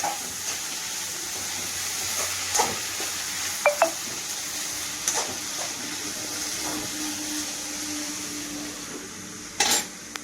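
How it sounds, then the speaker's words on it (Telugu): A spoon stirs broad bean curry in a pan, with soft scraping and a few sharp clinks against the metal over a steady background hiss, ending in a louder clatter. "ఒకసారి తిప్పుకున్నాం."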